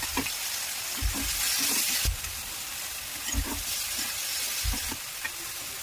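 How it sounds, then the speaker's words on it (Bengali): Whole spices, onion, garlic and tomato fry lightly in a pan, with a steady loud sizzle and hiss and repeated low thumps and scrapes as the mixture is stirred. "এখানে কিছু গোটা মশলা, পেঁয়াজ, রসুন আর টমেটো দিয়ে হালকা করে ভেজে নিচ্ছি"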